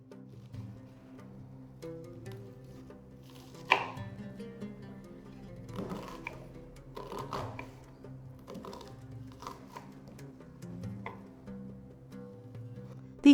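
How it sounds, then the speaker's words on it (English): A knife chops onions on a board for a Moroccan couscous dish, a quiet irregular series of sharp taps and thuds spaced a second or so apart, over faint room hum. "The onions are now chopped."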